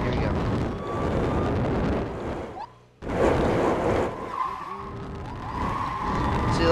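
A stolen hovercraft in the video game Brick Rigs drives with a loud, continuous roaring and hissing rush that cuts out briefly near the middle and then returns at full force.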